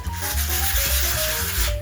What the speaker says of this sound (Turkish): Öncelikle şöyle bir zımparaya, ince bir zımparaya ihtiyacımız var.